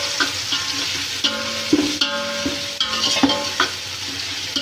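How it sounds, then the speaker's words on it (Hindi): Ginger garlic paste fries in hot oil with bay leaf for keema pulao, sizzling steadily while a spoon stirs and scrapes against the pan in irregular knocks, close and fairly loud, with no talking. "थोड़ी सी देर अदरक और लहसुन को भूनेंगे ताकि इनका कच्चापन दूर हो जाए।"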